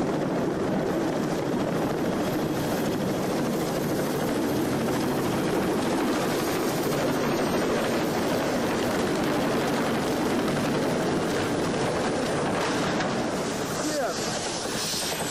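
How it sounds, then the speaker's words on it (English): A CH-46 Sea Knight helicopter attempting a ship landing during a training exercise off San Diego, with a loud, steady rotor and engine roar that stays constant throughout, mixed with rushing wind and ocean noise. "this CH-46 Sea Night helicopter came up short on landing during a training exercise"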